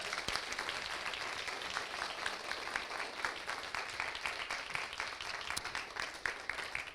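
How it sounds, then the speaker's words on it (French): A crowd applauds steadily at the closing ceremony of the Code Game Jam 2025, held at the IUT de Calais, with dense clapping sustained throughout and no voices over it. "on peut les applaudir encore une fois"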